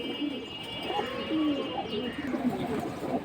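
A pair of large racer pigeons cooing in a cage, with repeated soft, throaty coos close by over a steady background murmur.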